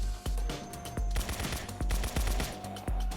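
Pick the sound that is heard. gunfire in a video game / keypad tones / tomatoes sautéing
gunfire in a video game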